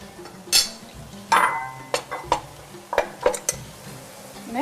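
Seasoned meat being mixed by hand with spices and salt for baked kibbeh, giving a series of soft wet squelches and brief clinks against the bowl, close and clear with no talk.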